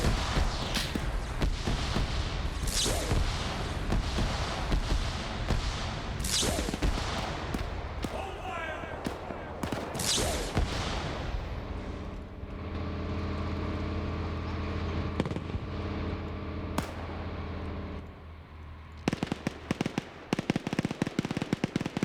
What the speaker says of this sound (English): there's someone over there shooting at me